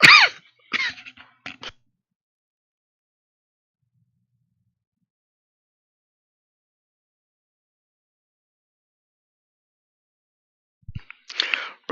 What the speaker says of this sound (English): I started coughing like crazy